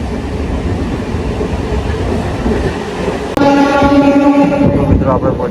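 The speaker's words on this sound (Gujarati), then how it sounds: "આપણી રેલવે 100ની સ્પીડે જઈ રહી છે" A passenger train running at about 100 km/h on the line through Idar toward Himmatnagar Junction, with a steady loud rumble of wheels on rails throughout, shifting partway through to a brighter, more tonal rolling whine, with voices faintly underneath.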